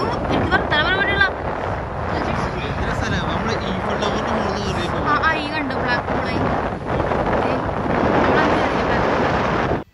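Strong sea wind at Blackpool beach roars and buffets the microphone steadily for the whole stretch, with a person talking loudly over it.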